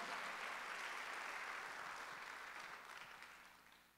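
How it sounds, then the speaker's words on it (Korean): A church congregation at a Sunday worship service claps together in a dense, even round, starting strong and gradually tapering off toward the end. "박수를 하나 더"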